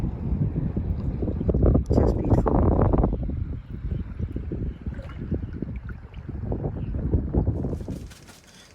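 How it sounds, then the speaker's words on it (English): Light wind on a tropical beach at the Tahanea atoll, buffeting the microphone in loud low gusts that rise and ease, with a person speaking briefly over it. "I hope this isn't too windy. It's a very light wind."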